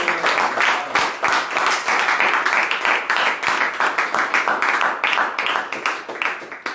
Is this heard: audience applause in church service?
yes